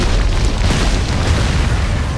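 A loud, sustained explosive roar fills the whole clip, a dense booming rumble with no gaps, from the video game Harry Potter and the Deathly Hallows.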